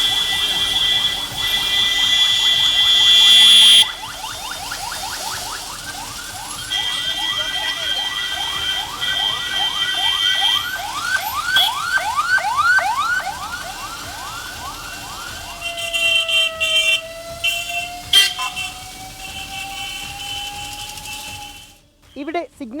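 Ambulance siren wailing amid a traffic jam at Ayur junction in Kollam, its rising and falling sweeps repeating steadily over street noise, then a long rising tone near the end before the sound cuts off.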